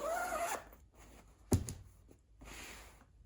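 A bolster pillow is pushed and squeezed through a cover's zipper opening, giving quiet fabric rubbing and zipper rasps in short bursts, with one sharp bump in the middle.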